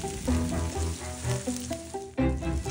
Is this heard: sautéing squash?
yes